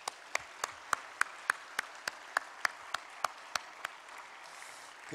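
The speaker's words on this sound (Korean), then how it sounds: "우리 여성들을 위해서 박수를 한번 격려하겠습니다" At a Sunday evening women's mission dedication service in a church, the congregation claps in unison, sharp, evenly spaced beats about three or four per second, moderately loud over a quiet room.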